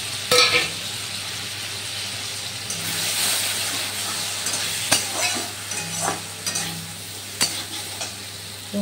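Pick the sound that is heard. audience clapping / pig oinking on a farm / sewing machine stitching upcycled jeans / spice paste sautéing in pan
spice paste sautéing in pan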